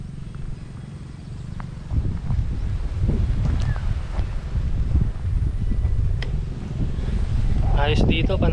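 Wind gusts across a mountain viewpoint at Mt. Gulod, Tanay, Rizal, rumbling low and buffeting the microphone. The gusts start a couple of seconds in and carry on underneath someone speaking nearby.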